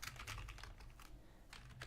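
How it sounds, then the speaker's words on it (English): Computer keyboard typing during a session of the game XCOM Declassified, with quick irregular clusters of key taps, close but quiet, over a faint low hum. "I have to use the keyboard."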